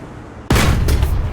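A T-34 1940 tank cannon fires in War Thunder, a single loud, close blast with a sharp onset, followed by a booming rumble that lingers for about a second.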